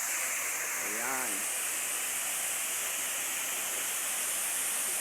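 Aruyan Falls in Sablayan, Occidental Mindoro, roaring as a steady, loud wash of falling water throughout, with a brief voice rising over it near the start.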